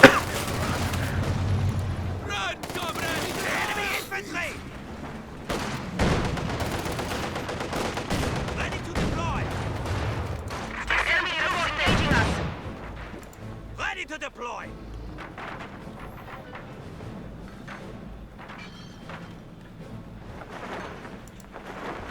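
MG34 machine gun fire in the Company of Heroes 2 real-time strategy game, dense bursts of rapid shots and booms that are loudest early on and thin out into scattered distant pops, with a voice talking over them.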